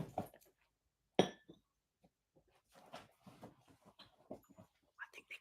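A dog whimpers and whines in short, high, broken bursts, with a sharp clink near the start and quiet gaps between cries.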